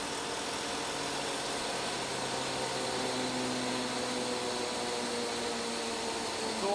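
A variable displacement hydraulic motor running on a test stand, a steady mechanical hum and whine with a slight shift in tone as displacement is increased, constant and close with no talking.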